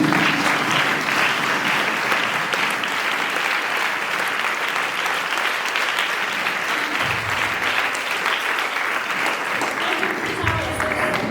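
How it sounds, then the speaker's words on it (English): Sustained applause from a large audience at a Speed School graduation ceremony held by the Nyonblee Cares Foundation, a dense steady wash of many hands clapping with no letup, with a faint voice underneath. "I want you to stand on your feet and give a huge round of applause to the NYONBLEE CARES"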